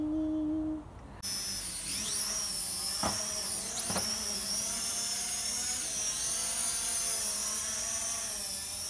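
Small consumer drone with a steady high-pitched propeller whine that hovers and shifts in pitch, heard outdoors against a constant rush of background noise.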